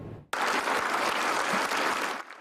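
Applause at a packed awards ceremony honoring two police officers: a dense burst of clapping from a crowd starts abruptly and holds steady, then tapers off.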